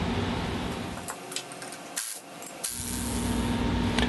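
Tools work on the shock absorber of an EZGO TXT golf cart, scraping and rubbing with a few sharp knocks and a brief quiet gap amid a steady gritty background noise.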